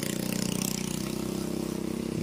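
A motorcycle engine hums at a steady idle, close and continuous, with an even low throb and no change in pitch throughout.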